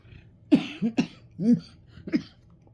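Several short, raspy coughs in a row, close and moderately loud, with brief pauses between them and no speech.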